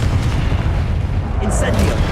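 A Confringo fire spell explodes in Hogwarts Legacy on Xbox Series X, a loud sustained rumbling boom filling the short moment with dense low-end roar and a brief bright crackle near the end.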